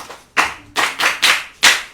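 A group claps for a child at a children's programme: five loud, close bursts of clapping in an uneven rhythm, with short gaps between them.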